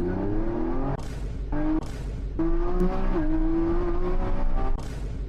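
A car engine revs and drones loudly with rising and falling pitch, broken by several sharp bursts and shifts over about five seconds, with no talk.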